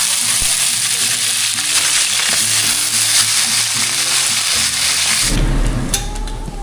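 Soaked, salted kabasi fish, daing, fries in hot oil with a loud, dense, continuous sizzle up close. Near the end the sizzle drops suddenly and a few clinks follow.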